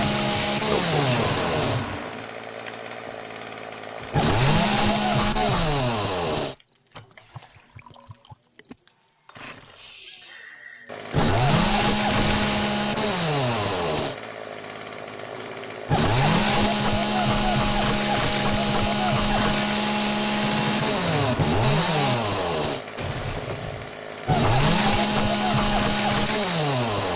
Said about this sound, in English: I found chainsaw